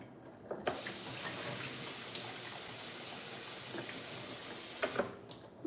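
Water from a kitchen faucet runs steadily into the sink as lentils are rinsed, a continuous close splashing hiss with a few small knocks near the start and end.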